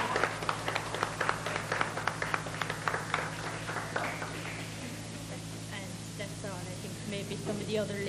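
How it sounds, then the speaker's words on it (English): Applause from a school audience in 1987, a dense patter of clapping hands that thins out toward the end as a voice starts speaking over it. "I think she deserves a round of applause"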